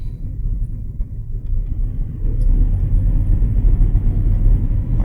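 John Deere S770 combine idled up as its separator engages, a deep low rumble that swells and thickens midway into a steady heavy churning drone, close by with no speech.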